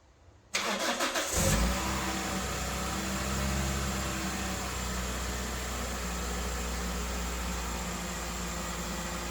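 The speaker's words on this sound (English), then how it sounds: "The only thing to do now is just to quickly start the car up." A 2004 Toyota Celica T-Sport 190 with freshly changed spark plugs cranks briefly and fires up, settling into a steady, loud idle that runs on alone without talk.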